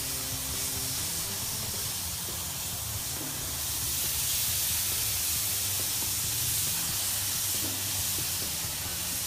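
A steady, loud hiss of marinated steak searing on a hot grill, continuous and broad like spray, with faint low rumble underneath and no talking.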